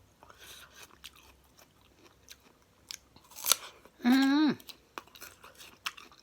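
A crisp, sweet-sour pear is chewed up close in a series of soft, irregular crunching bites, with a brief hummed vocal sound partway through.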